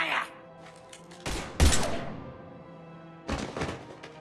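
Gunfire in the Mass Effect 3 video game: a few loud, sharp bursts of shots stand out over a quieter background, with speech heard around them.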